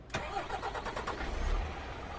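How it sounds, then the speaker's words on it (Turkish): A truck engine cranks and catches in Euro Truck Simulator 2, a quick starter whir followed by a steady rumbling idle, loud and close, with no voices. "Şöyle kontağı açalım abi ve marşımızı yapalım."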